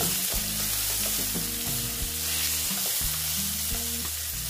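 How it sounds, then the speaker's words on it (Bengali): Vegetables fry with turmeric in a pan for a poppy-seed dish, a continuous hissing sizzle running under soft background music with low, stepping notes. "হলুদ দিয়ে একটু ভেজে নিচ্ছি।"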